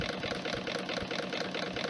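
Newman motor with a 12-inch magnetic rotor spinning fast on an extra 4 volts, a steady rapid rattling whir with a dense pulsing texture, running continuously and close up.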